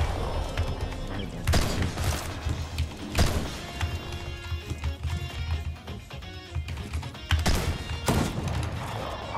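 Repeated gunfire bursts in a ranked video game match, loud and close, with sustained rattling volleys and sharp peaks around regular intervals, over continuous game noise.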